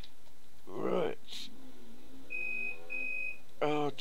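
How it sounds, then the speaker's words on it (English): A mobile phone beeps with two short, even high electronic tones in a row, set between bursts of a voice during a Minecraft recording. "Oh, typical. That's my phone."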